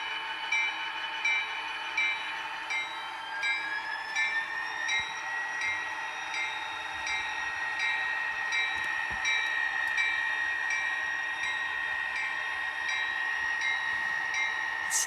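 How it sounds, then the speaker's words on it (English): A model railroad CSX diesel locomotive's horn sounds in sustained, layered tones over a steady engine rumble, loud and continuous throughout with no talking. "Oh, and I'm excited about this horn."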